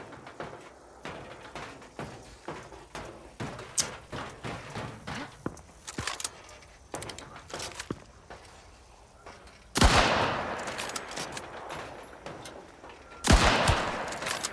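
Shots from a Bertier rifle in Hunt: Showdown 1896 crack out, with scattered lighter impacts and movement sounds followed by two loud, ringing blasts spaced a few seconds apart, with faint talk in between.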